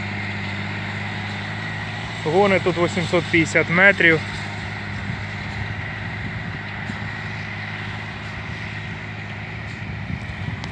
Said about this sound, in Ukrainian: І трактор плавно заїжджає в туман